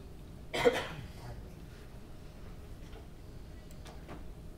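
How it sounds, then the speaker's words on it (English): A single short cough sounds near the start, muffled and moderately close, followed by quiet room tone with faint ticks. "Sorry, I'm fighting a cough."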